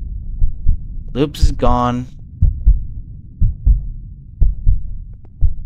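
A horror game's heartbeat effect thumps in a steady, low, throbbing rhythm through the whole stretch, with a man's short spoken remark near the start over the pulses.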